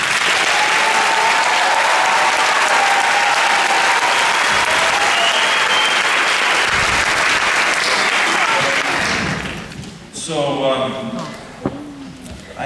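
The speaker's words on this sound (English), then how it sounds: "Let's have a round of applause for our accompanist, Ms. Sheree Hutcherson." Loud, dense applause from a concert audience for the accompanist of a multi-generational choir, sustained for about nine seconds and then fading out amid scattered claps and a voice.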